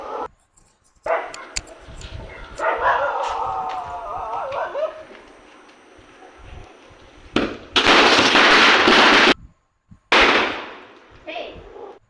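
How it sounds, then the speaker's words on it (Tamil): Diwali firecrackers going off in bursts, several loud bangs and crackling runs close by, with a dog barking and people talking between the blasts. "எங்கள் பாப்பா தான் இப்போ பட்டாசு வெடிக்க போகுது"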